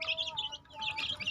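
Young chicken chicks chirping in a steady, busy chorus of thin, high peeps with no pauses, fairly faint and with no voices.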